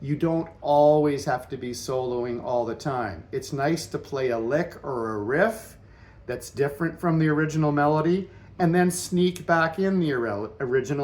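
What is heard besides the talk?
No everyday noise stands out behind the speech.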